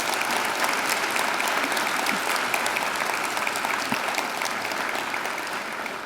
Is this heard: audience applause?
yes